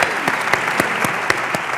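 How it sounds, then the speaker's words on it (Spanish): Audience applause at a cultural association's presentation event in Palma del Río, a dense, steady wash of clapping with a few sharper claps standing out, sustained evenly throughout with no voices over it. "Un aplauso, un aplauso."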